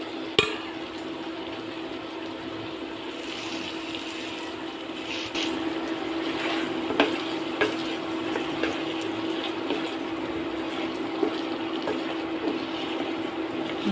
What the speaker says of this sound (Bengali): ভালো মতো আলু দিয়ে আর 5-10 মিনিটের মতো আবার কষিয়ে নেব